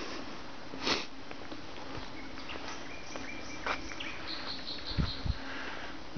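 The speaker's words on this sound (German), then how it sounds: "Und hier hört man es ganz deutlich, den Gesang der Nachtigall." A nightingale sings at night in Dresden-Leuben, a faint, distant run of repeated high piping notes over a steady background hiss, with a few soft thumps and rustles.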